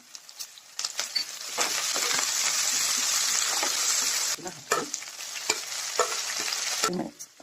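Green chillies, curry leaves, crushed ginger and garlic frying in oil in a pan, a loud, steady sizzle with bursts of spatula stirring and scraping, close up with no talk.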